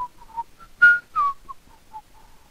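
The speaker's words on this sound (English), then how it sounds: "I don't know what I'm whistling." A person whistles a wandering tune, soft and near, with short wavering notes and a couple of louder, sharper bursts, alone without talk.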